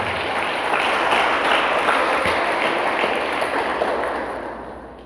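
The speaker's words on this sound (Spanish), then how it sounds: "Dale un fuerte aplauso al Rey de Gloria en esta mañana." Congregation in a church service giving a strong round of applause, a loud, dense, continuous wash of clapping that fades toward the end.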